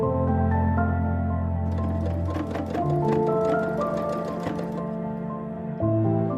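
A sewing machine stitches a gathered bottom skirt tier onto the top tier, humming steadily at close range with a short pause and restart near the end.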